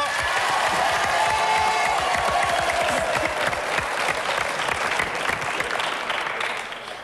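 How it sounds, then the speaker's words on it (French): A television studio audience claps for guests from Vitelles, dense applause with a few whoops and cheers mixed in, tapering slightly toward the end. "Quelques applaudissements pour nos amis Vitellois."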